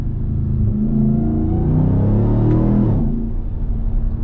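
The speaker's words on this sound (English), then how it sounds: "the exhaust on this thing sounds incredible" A RAM TRX pickup truck's deep, throaty exhaust revs up and falls back, rumbling loudly and close, with rising and falling engine tones.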